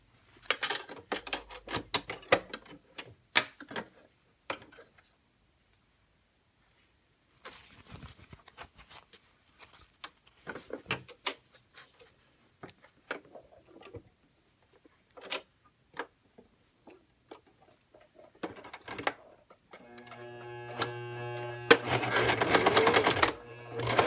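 Near the end, a sewing machine runs in a short, steady buzzing burst while stitching a skirt waistband along a seam, after scattered quiet handling clicks and knocks.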